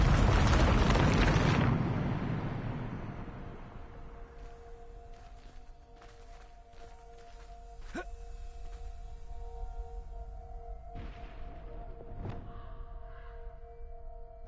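A Bombarda spell blast in the video game Hogwarts Legacy: a loud, broad explosive burst at the start that decays over a couple of seconds, followed by quieter tonal game ambience with a few sharp clicks.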